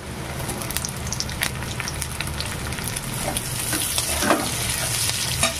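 Chopped onion, crushed garlic and green chilli fry in oil in a pan, a close, busy sizzle with crackles and a few scraping stir sounds, no speech.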